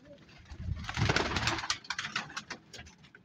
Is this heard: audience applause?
no